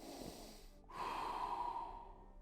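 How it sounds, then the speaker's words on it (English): A single deep, steady breath drawn in and let out during a follow-along full-body mobility sequence, close and clear with no talking over it. "Take a breath here"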